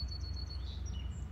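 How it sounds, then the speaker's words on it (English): Birds chirp outdoors on a spring day, a few high, thin calls repeating at moderate distance over a low background rumble. "I don't know if you can hear the birds chirping"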